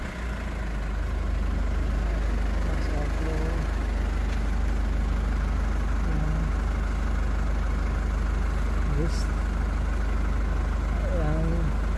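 A 2011 Ford Ranger with a starting fault idles steadily, a loud, constant low engine drone with faint higher tones drifting over it and no talk on top.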